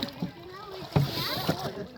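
A boat is rowed on cold tidal water, oars knocking and dipping in soft rhythmic strokes, faint under people talking nearby.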